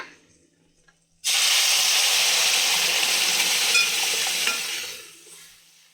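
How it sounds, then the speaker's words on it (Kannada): After a moment of quiet, a loud sudden sizzle erupts as palak dal hits the hot oil tempering, hissing steadily then fading slowly with faint stirring. "ಈ ಒಗ್ಗರಣೆಗೆ ನಾವು ಮಾಡ್ಕೊಂಡಿದ್ದಂತಹ ಪಾಲಕ್ ದಾಲ್ ಏನಿದೆ ಅದನ್ನ ಸೇರಿಸ್ಕೊಳ್ಳೋಣ"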